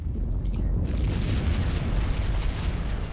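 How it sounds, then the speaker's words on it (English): A heavy, rumbling explosion in the video game Max Payne roars continuously, dense low booming with crackling debris on top, loud and close, no talking. "Cool guys don't look at explosions."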